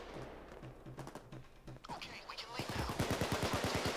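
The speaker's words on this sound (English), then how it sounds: "What the hell is shooting me?" Gunfire in Payday 2 during a bank vault heist: scattered single shots at first, then a rapid automatic burst of loud, evenly spaced cracks building toward the end.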